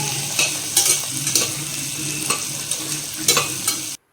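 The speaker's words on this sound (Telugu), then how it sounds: "సన్నగా తరిగినటువంటి ఒక ఉల్లిపాయి, 3 పచ్చిమిర్చి చీలికలు వేసుకొని బాగా కలుపుకుంటూ వేయించాలి" Thinly sliced onion and three slit green chillies frying for chicken biryani, a loud, steady sizzle broken by repeated scraping stirs of a spoon in the pan, ending abruptly.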